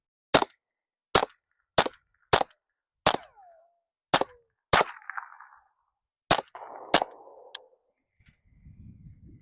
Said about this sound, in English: Maybe that crack is the sound barrier being broken.